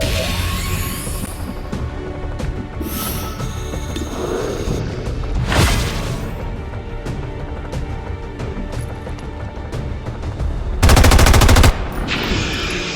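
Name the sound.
gunfire in video game XCOM 2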